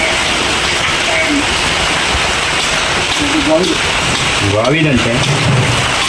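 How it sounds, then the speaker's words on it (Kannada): Heavy rain pours down in a village, a dense, steady hiss filling the whole clip while voices talk over it. "ಈಗ ಸಿಕ್ಕಾಪಟ್ಟೆ ಮಳೆಯದೆ ಇಲ್ಲಿ."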